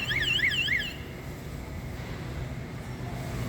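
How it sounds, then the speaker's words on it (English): A wailing electronic alarm sounds inside a Walmart store, its rising and falling tones loud for about a second and then fading, leaving steady store background noise. "Alarm's going off here."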